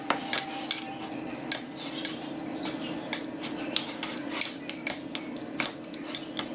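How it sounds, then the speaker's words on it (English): A metal spoon stirring adobo-seasoned vegan food around a pan, sharp clinks and scrapes in an irregular rhythm, close and fairly quiet. "And then I'm just gonna take my spoon and just mix it all around."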